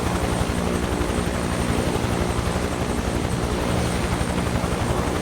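A Huey helicopter in Microsoft Flight Simulator 2024 gives a loud, continuous rotor chop over a dense engine roar, steady and close throughout.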